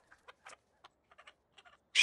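A chicken in a scene from the film City of God gives a series of short, faint, scattered clucks, then a loud burst of sound at the end.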